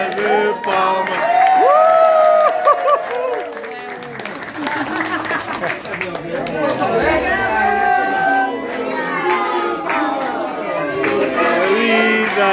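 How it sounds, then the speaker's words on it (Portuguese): Clapping and cheering at a child's birthday party, steady for the whole stretch and mixed with singing voices, shouts and crowd chatter. "para o menino, uma salva de palmas"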